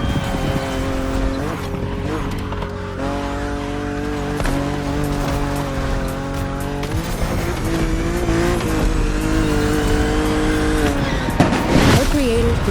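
A BMW in The Crew Motorfest drives with a loud, steady engine drone that shifts pitch as it revs and changes gear, with a sharp tire squeal near the end and talking over it.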